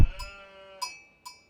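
Sheep bleat in the Age of Empires strategy game, three short synthetic bleats spaced evenly against a sustained game tone, with no talking.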